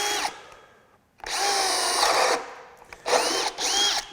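A Craftsman brushless hammer drill bores with a bit in loud whirring bursts, spinning down briefly between runs and stopping with a short cutout near the end.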